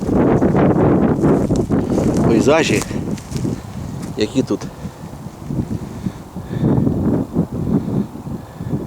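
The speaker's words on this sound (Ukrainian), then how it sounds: "Вітер тут просто бомба. Вітер дме з усіх боків." Strong gusty wind in a rocky gorge buffeting the microphone in a roaring rush, with a person speaking partway through and a brief bird call.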